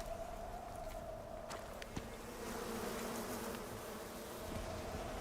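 Bees swarming around a player in the survival game Icarus: a continuous close insect buzz with wavering pitch, steady throughout, over faint outdoor ambience and a couple of small clicks, no one talking.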